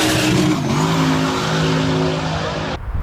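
Race car with five-year-old tires launches hard and lifts into a wheelie, its engine roaring loud and close with a rising then settling pitch before cutting off abruptly near the end.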